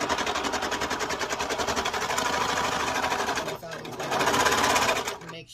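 Serger sewing machine stitching a sweatshirt, a loud, close, fast mechanical whirring that runs steadily, pauses briefly, then resumes before stopping abruptly.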